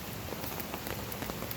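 Steady rain drumming on a tarp shelter at a campsite, dense close patter of drops with a constant hiss and no voices.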